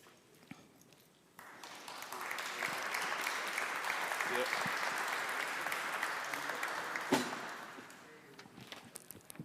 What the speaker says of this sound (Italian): Anche gli applausi